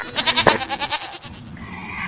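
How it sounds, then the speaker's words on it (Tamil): Goats on a farm bleat in a quick series of close, wavering calls, several voices overlapping in a rapid pulsing rhythm that fades toward the end. "பாருமா இதான் எங்களோட ஆடுங்கெல்லாம் இருக்குது"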